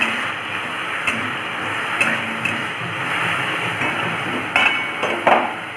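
A spoon scrapes and clinks against a pan while malinga (drumstick) flower curry is stirred after salt goes in, irregular metallic taps and scraping over a steady background hiss, close and fairly loud.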